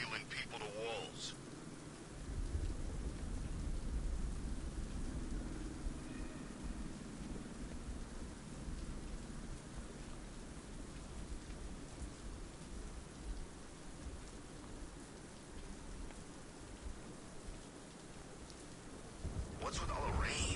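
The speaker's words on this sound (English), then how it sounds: "What's with all the rain?" Steady heavy rain pours over a Gotham city street in Batman: Arkham Knight, a continuous hiss with low rumbling thunder rolling underneath, constant and fairly loud throughout.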